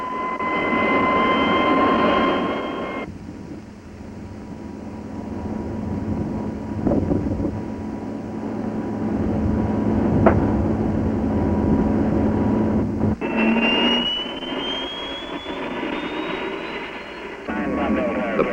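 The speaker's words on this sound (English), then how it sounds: "As a final operation, the engine is started and checked out." The jet engine of a T-33 Shooting Star starts and runs in a steady, windy roar, with a rising whine as it spools up, while a narrator speaks over it.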